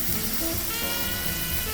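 Butter and garlic sizzle steadily in a hot wok, a dense continuous frying hiss heard close up with no talking.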